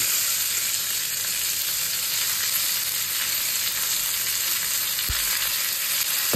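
Chopped onions fry with curry leaves and a pinch of turmeric in a pan for South Indian tomato chutney, giving a steady, close, continuous sizzle with a brief stirring knock near the end and no talk.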